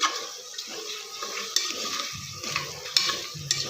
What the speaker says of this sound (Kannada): ಎಣ್ಣೆಯಲ್ಲಿ ಫ್ರೈ ಮಾಡಿರೋ ಮೊಟ್ಟೆ ಹಾಕ್ಕೊಳ್ಳೋಣ. ಚೆನ್ನಾಗಿ ಮಿಕ್ಸ್ ಮಾಡ್ಕೊಳ್ಳೋಣ.